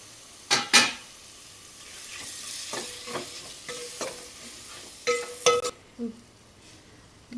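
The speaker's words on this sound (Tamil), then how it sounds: "இப்போ மல்லித்தலையும் போட்டு நல்லா வணக்கி விட்டுட்டு அப்புறம் மட்டன் போடலாம்" Masala with coriander frying in a pan for mutton biryani, with a spoon scraping and stirring in a few sharp bursts over a steady low sizzle; no talking.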